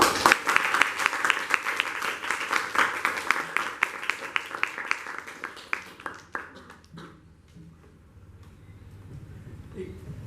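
Audience applause for performers at a college Marathi Language Day event, strong dense clapping that gradually thins and fades to a few scattered claps near the end.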